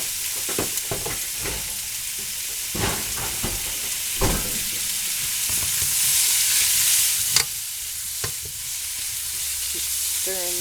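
Beef lo mein fries in a pan while being stirred, giving a loud, continuous sizzle with intermittent scraping and clattering strokes of the utensil, close up with no talking.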